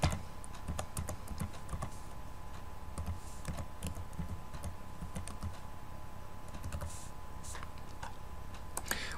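Steady, rapid typing on a computer keyboard as a bank card number is entered, close and clear, a continuous run of light clicks with no talk.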